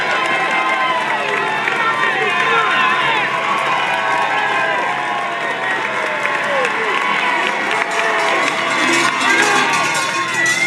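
A large crowd cheers at a climb in the MyWhoosh cycling game, with dense, continuous shouting, clapping and cowbell ringing, loud and sustained throughout while a voice talks over it.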